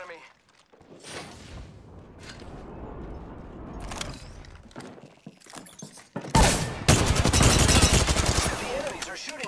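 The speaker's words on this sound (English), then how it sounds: "The enemies are shooting me. They're shooting at me." Enemy gunfire in a battle royale video game: scattered shots and thumps at first, then a loud sustained burst of rapid automatic fire near the end, with a voice talking over the earlier part.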